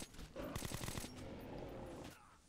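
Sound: gunfire from an enemy in the video game Metro: Last Light Redux

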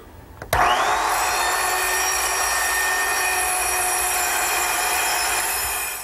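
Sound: small circular saw cross-cutting wood pieces

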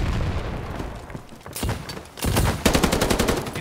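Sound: gunfire in video game Battalion 1944

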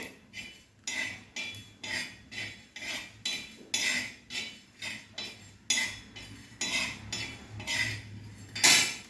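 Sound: dry roasting coriander seeds and cloves in a pan

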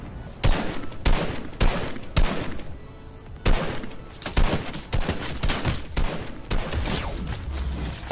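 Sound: gunfire in a shooter video game

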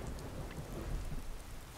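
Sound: rain and thunder in video game Skyrim

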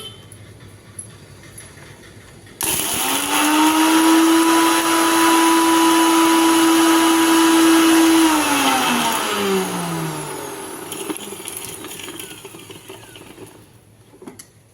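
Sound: mixer grinder grinding cumin, pepper and fenugreek

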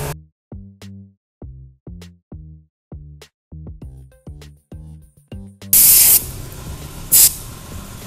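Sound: spraying chain cleaner on Ninja 400 motorcycle chain

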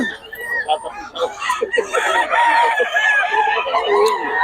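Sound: chickens and roosters

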